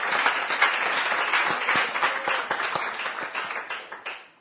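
Church congregation applauding during a Spanish-language sermon, a dense burst of many hands clapping together that fades out at the end, with no talk over it.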